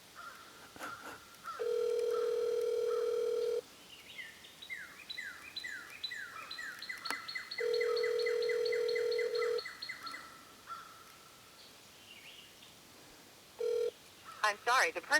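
A phone call being placed: a string of dialing tones, then repeated ringback tones, followed by the automated sounds of reaching voicemail; loud and close with brief gaps between rings.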